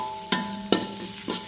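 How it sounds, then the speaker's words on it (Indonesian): Shallots and garlic stir-fried in a wok over low heat, a soft continuous sizzle broken by three sharp scraping strokes of a spatula against the pan, close and clear. "Terus kita oseng pakai api kecil ya."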